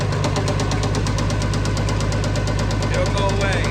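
A blown mixer tractor's diesel engine knocks with a rapid, regular metallic banging over a steady low hum, close and loud, with a voice briefly underneath.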